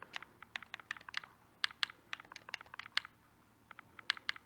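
A search is typed on a keyboard for Xbox One in quick, irregular bursts of light key clicks, close and fairly quiet, with short pauses and no voices.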